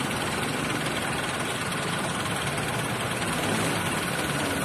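A new motorcycle engine idles steadily, a constant rumbling drone with a low vibrating hum that stays even and fairly close throughout, with no one speaking.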